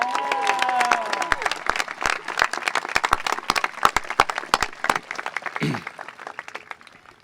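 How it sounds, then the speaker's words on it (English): Audience applause at the Wellesley High School 2023 commencement: dense, sustained clapping from a large crowd fills the whole stretch, with a brief voice at the start. "Can we give them a round of applause as well?"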